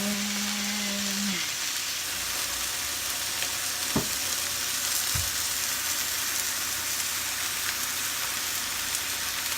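Fish fillets frying in a pan, a steady close hiss and crackle of hot oil running throughout, with a couple of faint knocks and no voices.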